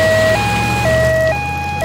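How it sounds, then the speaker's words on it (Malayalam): An ambulance siren wails close and loud, its two-tone pitch alternating up and down several times in quick succession with no voices over it. "ആംബുലൻസ്."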